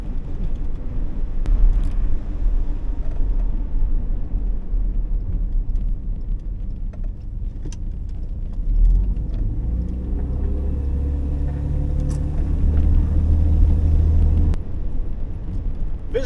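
Inside a 1968 Jaguar S-Type driving at a quick pace, a steady low road and engine rumble continues throughout with soft wind noise and occasional faint clicks. No speech is heard.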